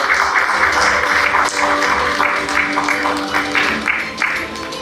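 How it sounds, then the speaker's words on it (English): Applause at a leadership awards ceremony in Sri Lanka as an honoree walks up, a full hall clapping steadily with a faint voice underneath. "Give her a big round of applause as she walks up."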